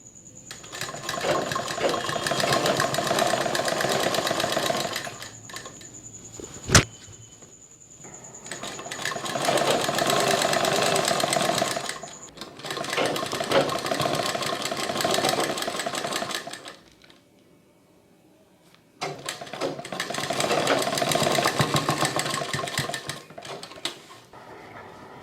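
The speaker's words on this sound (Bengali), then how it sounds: "আমরা এইভাবে 1/4 ইঞ্চ ডিস্টেন্সে পাইপিংকে সেলাই করে নেব।" A sewing machine stitching cord piping at a quarter-inch seam, running in four long whirring bursts of rapid mechanical chatter separated by short pauses, close and loud with no talk.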